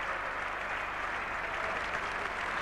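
Continuous applause from a distant cricket crowd at a 1981 Ashes Test match, a broad even patter of many hands with no voices rising above it.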